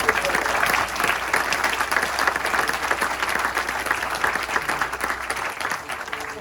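An audience at an anniversary keynote on a seed-saving farm applauds in a broad, continuous burst of many clapping hands that holds steady and then thins out toward the end.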